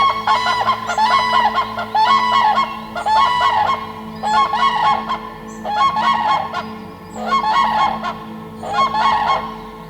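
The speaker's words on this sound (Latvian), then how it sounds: "Savukārt vienā no izcirtumiem klaigā dzērve" A crane calls from a forest clearing with loud, honking trumpet-like cries repeated in six regular bursts, close and prominent over a low background hum.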